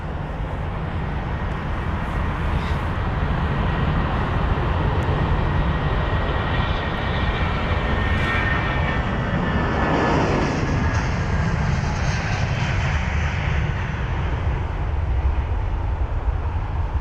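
A jet airliner on the Dublin flight departs London Heathrow, its engines a loud sustained roar that swells and holds steadily for the whole span, with no voices over it.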